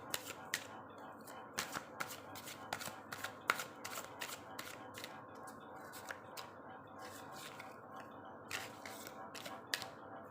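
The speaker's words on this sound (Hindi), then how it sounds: "चलिए तो फिर पहले कार्ड शफल करते हैं।" Tarot cards being shuffled by hand, a close series of quick, crisp riffling snaps and soft flicks repeating in irregular bursts, quiet with no talking.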